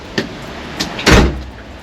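Door of an aft cabin on the Grand Princess cruise ship opening onto the pool deck, a couple of faint knocks and clicks followed by a louder whooshing thud as it swings open, heard up close.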